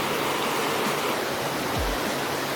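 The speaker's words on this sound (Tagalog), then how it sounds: "Ang ganda rin ng nung ilog yan." River flowing near a campsite, a constant close rush of water babbling without pause, loud and even throughout.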